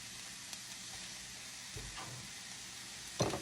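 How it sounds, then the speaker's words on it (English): Mushrooms cooking down in a pan for sausage pasta, a soft continuous sizzle and hiss with a few faint stirring knocks and a brief louder scrape near the end. "Now we're going to cook this until those mushrooms are like cooked."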